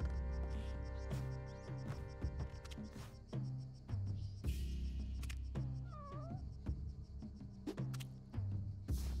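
A cat meows in the video game Spelunky, short gliding cries rising over steady looping game music and clipped sound effects, at moderate level with no talk.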